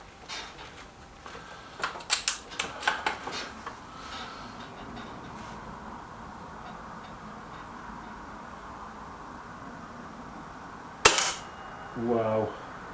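Shots from a Kral NP500 air rifle: a cluster of sharp cracks in quick succession, then a single loud report near the end, with faint talk and some rattling afterward.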